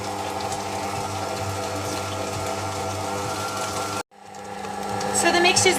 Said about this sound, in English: turning your beaters on to a nice slow speed, and gradually you can add the eggs